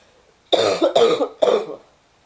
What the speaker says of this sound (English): No one wants to listen to me cough